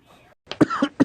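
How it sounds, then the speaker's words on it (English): A person coughs in a quick series of about three sharp, close bursts after a brief pause in faint background noise. "Cough is not contagious if you see it in a video."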